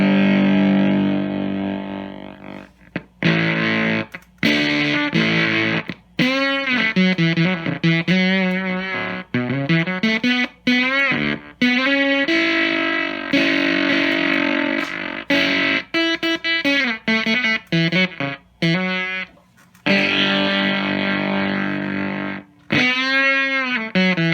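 Electric guitar through a germanium fuzz pedal with bias and gate controls, a gated, sputtering, buzzy tone, playing bent notes and short phrases broken by choppy cutouts, loud and up close.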